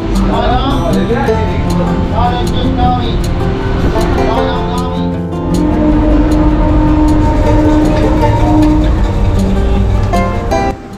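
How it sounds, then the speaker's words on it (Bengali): A passenger train pulls out of Santragachi station bound for Digha, its steady, loud rumble and rolling wagon noise filling the scene while a voice talks over it. "ট্রেন ছেড়ে দিল"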